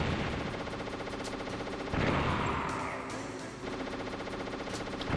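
SOCOM pistol fire in Metal Gear Solid, during a boss fight with Raven: dense game combat with a heavy blast around the middle, then continuous battle noise under a few sharp cracks.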